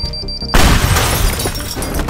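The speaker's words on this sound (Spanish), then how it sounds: "explosiones a full" Bomb blasts tear down towers in the voxel destruction game Teardown: after a brief quiet lead-in, a loud booming explosion erupts and rolls into sustained crumbling, shattering debris that keeps rumbling to the end.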